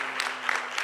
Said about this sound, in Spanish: estamos aplaudiendo